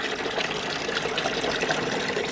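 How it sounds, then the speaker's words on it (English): Sanitizer liquid draining out of an SL 500 gravity model machine, a steady close rush and trickle of fluid that carries on without a break. "And then to drain, just hit the twist."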